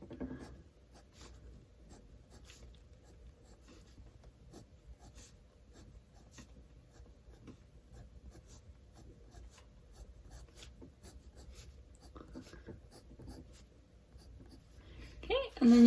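A pencil draws lines across paper with a steady soft scratching and rubbing that runs throughout, fairly close and quiet, and a brief louder noise comes at the very end.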